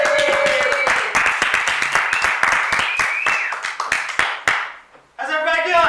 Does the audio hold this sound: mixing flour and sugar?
no